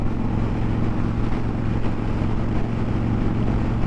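Kawasaki Vulcan Classic trike fitted with louder exhaust pipes, a steady deep engine rumble at cruising speed, continuous and close with wind noise mixed in and no talking.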